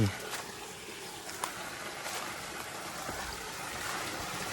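Waterfall in a tropical rainforest, a steady broadband rush of falling water heard continuously at moderate distance, with no break across the short stretch.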